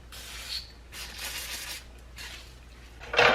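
Aerosol brake cleaner spraying onto a brake caliper during a brake and rotor job on a 2011 Toyota Avalon, coming in several sustained hissing bursts close by, with a short clatter of metal at the end.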